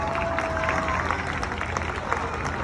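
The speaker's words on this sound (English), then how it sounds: "I'm gonna give him a round of applause" A crowd at a Fourth of July theme park show at Six Flags Discovery Kingdom applauds, a dense, even spatter of clapping heard from amid the audience, steady with an occasional voice.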